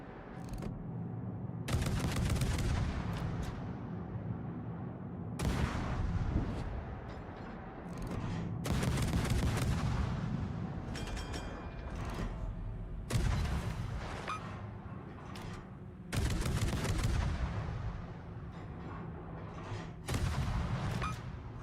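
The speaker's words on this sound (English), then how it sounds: "It's a good job these guns are so accurate." Warship guns firing in World of Warships, heavy booming salvos recurring every few seconds, each followed by a rumbling tail over a constant low engine drone, with no talking.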